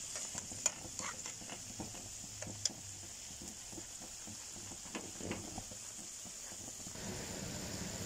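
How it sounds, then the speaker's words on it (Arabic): Eggplant frying in hot oil, a quiet continuous sizzle with scattered light taps and pops, faint and steady throughout. "والباذنجان بتاعنا بدأ يحمر اهوت"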